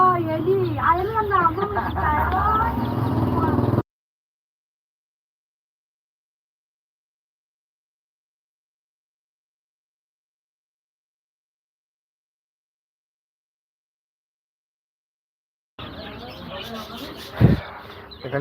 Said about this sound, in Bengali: আপনাদেরকে সরাসরি দেখাচ্ছি একদিন বয়সের লেয়ার মুরগির বাচ্চা এখানে